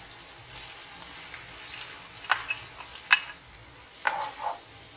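Huitlacoche, the corn fungus, sizzles softly in a pan after being added to a sofrito. A low, steady frying hiss runs throughout, broken by a few sharp crackles and scrapes of stirring.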